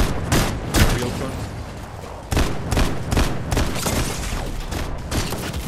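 Bursts of gunfire in a Fortnite no-build duo match, loud cracking shots in quick clusters, some louder and nearer than others, with players talking in between.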